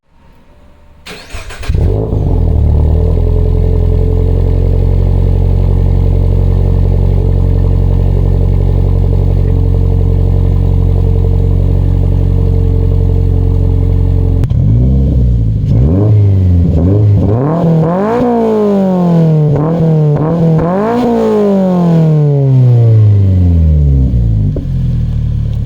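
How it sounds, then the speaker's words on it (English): A 2023 Subaru BRZ with an MBRP exhaust starts up, settles into a loud steady idle, then revs hard in repeated rising and falling pulls, close and alone. "I hope you like the new exhaust. It sounds so good."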